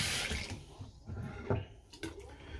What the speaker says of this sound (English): Fill up my cup with some hot water.